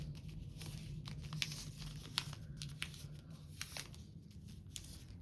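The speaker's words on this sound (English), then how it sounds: "We're just going to take off all the pins and detach it from" A paper sewing pattern is peeled and torn away from fabric as pins come out, making soft crinkling, rustling and brief tearing sounds in scattered close bursts.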